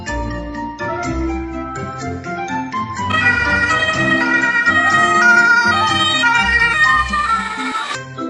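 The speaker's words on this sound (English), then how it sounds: "Ambulance." Ambulance siren in a vehicle-versus-vehicle video game, a loud tonal wail rising and falling steadily over a layered musical backdrop, growing fuller partway through.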